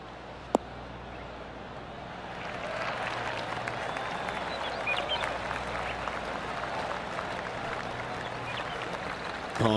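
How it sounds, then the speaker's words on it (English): Golf gallery applause after a hybrid approach shot from around 200 yards at a PGA tournament, a broad steady wash of clapping from a sizable crowd that swells after a couple of seconds and holds, with no talk over it. "golf clap. That's a beauty."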